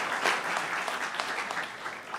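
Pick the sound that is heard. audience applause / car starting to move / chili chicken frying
audience applause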